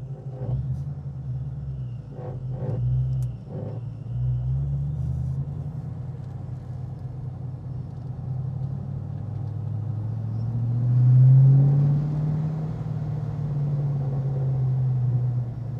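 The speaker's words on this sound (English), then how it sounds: "Until it warms up completely, it kind of has a little vibration back there that you can hear." A 2007 Ford Mustang GT custom idles with a low, steady rumble while a panel at the rear vibrates before the engine warms up, swelling briefly with a slight rev midway.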